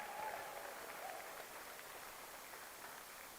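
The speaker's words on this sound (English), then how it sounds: "Give them a round of applause" Faint, distant applause from a room of about 200 competitors at a jigsaw puzzle national final, a soft steady hiss of clapping resembling rain, with a brief faint tone early on.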